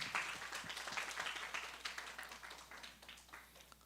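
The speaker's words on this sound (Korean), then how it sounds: "큰 영광의 박수를 올려드립시다" Applause from a church youth service congregation, a faint and distant patter of clapping that thins and fades over a few seconds.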